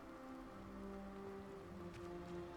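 Steady rain falls in a Hogwarts Legacy game scene, a soft even hiss with a low tonal game music bed underneath, quiet and continuous with no talking.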